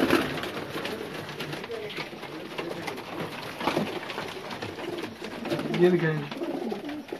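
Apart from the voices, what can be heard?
pigeons cooing in a loft in Sharjah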